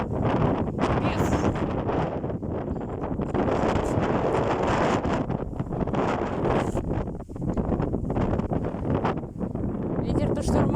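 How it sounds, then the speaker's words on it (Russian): Strong stormy wind gusts across an open field in August, roaring and buffeting the microphone nonstop at high volume, flattening grass and bending trees, with a voice partly buried in the roar. "Ветер-то штормовой."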